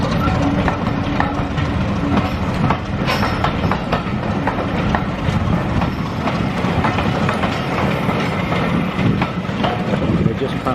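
Southern Region steam engine hauling a train out along the Swanage Railway single line past an old warehouse, a loud continuous rumble with clickety-clack of wheels and wind buffeting close by.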